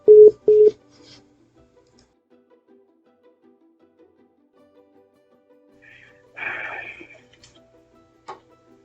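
Telephone keypad tones open the sequence as two loud, sharp beeps in quick succession, followed by near silence, then a burst of brighter electronic ringing or signal noise and a final short tone.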